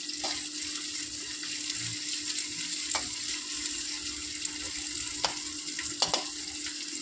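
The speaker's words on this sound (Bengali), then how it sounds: "তো একটু ফ্লেমটা বাড়িয়ে দেবো গ্যাসে, দিয়ে এটাকে ভালোভাবে নেড়ে চেড়ে নেবো" Onions frying in a pan for egg fried rice, stirred with a ladle, give a steady sizzle with occasional metallic scrapes and clinks of the ladle against the pan, close and continuous.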